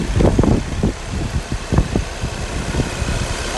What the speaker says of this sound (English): The car has been running since the start of the video